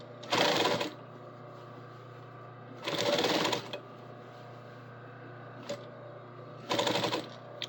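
A sewing machine top-stitches the back pockets of a garment in three close, rapid runs of stitching, separated by a quiet hum and small clicks.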